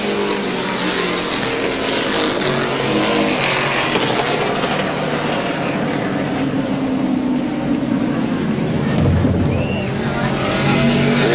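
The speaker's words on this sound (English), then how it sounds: "The 71 heads for the checkered flag and takes the victory with Ken Phillips in the 0 car." Stock cars race at Lorain County Speedway in 1987, their engines forming a loud, continuous roar that stays near and steady for the whole stretch.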